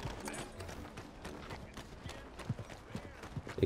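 Horse hoofbeats from Red Dead Redemption 2 clop in a steady, even rhythm at close range, with light game ambience around them.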